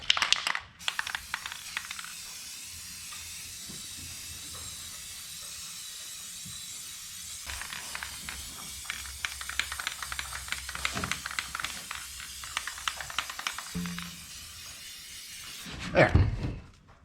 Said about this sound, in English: Just gonna hit this with a coat of enamel